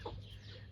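Backyard chickens give a couple of soft, brief clucks over a steady low hum, close and fairly quiet, with no talk.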